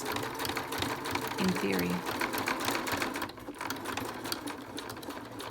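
A sewing machine runs steadily while stitching a sequined bag for an 18-inch doll, working along the edge in the direction of the sequins, with a person talking over the mechanical whir throughout.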